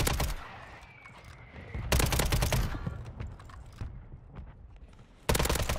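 MCW rifle fire in Warzone, on Rebirth Island in solo ranked play: two loud, close automatic bursts, split by a quieter stretch of scattered distant shots.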